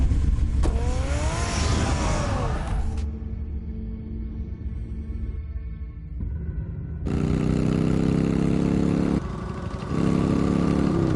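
The Batmobile's engine from the Batman Telltale video game roars loudly in sustained bursts, drops to a quieter rumbling idle in the middle, then surges back up to full power near the end.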